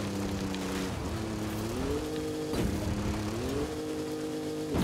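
Stock Ford Bronco driving off-road over sand dunes in Forza Horizon 5, its engine droning steadily close by and climbing in pitch through two gear changes, with short dips between shifts.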